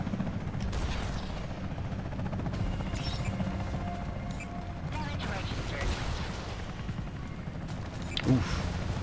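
In the game Comanche 2020, a helicopter fires unguided rockets in a few sharp, scattered bursts over its steady, droning rotor hum, with a voice talking underneath and a louder launch near the end.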